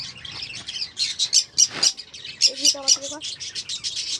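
Several colourful birds chirp and tweet in quick bursts nearby on a rooftop, with brief squawks; a faint voice murmurs in the background.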